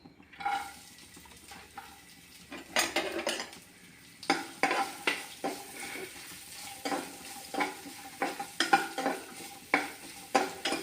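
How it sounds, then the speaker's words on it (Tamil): Sliced coconut pieces sauté in a pan. A spatula scrapes and clatters in repeated bursts over a soft, low sizzle, close up and with no talking. "இப்போ நம்ம தேங்காயை பல்லாக அரிஞ்சு வச்சுருக்கிறோம் பாருங்கள். இதை நல்லா வதக்கிக்கலாம்."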